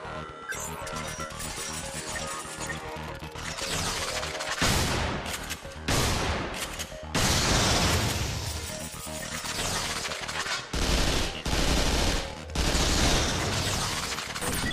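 Rapid bursts of weapon fire and crashing impacts from the Xbox 360 shooter Vanquish, loud and dense, arriving in several sustained volleys separated by brief pauses, with game effects layered over the shots.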